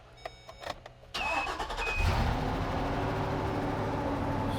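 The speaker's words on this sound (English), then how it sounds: "I bet you we got a vehicle that cranks now" A Chevy engine cranks and then fires into a steady idle, starting as brief starter whirs and clicks before settling into a loud, continuous running hum with no speech.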